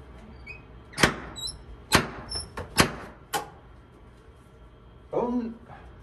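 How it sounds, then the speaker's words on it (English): Several sharp, loud knocks land on a church door in an uneven sequence, followed by a voice speaking briefly afterward. "Only a bishop knocks like that at our doors."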